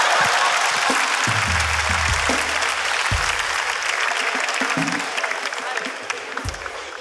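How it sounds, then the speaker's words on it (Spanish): Sustained applause from a studio audience, dense and close, with a few voices under the clapping, tapering off slightly toward the end. "Un fuerte aplauso para ellos."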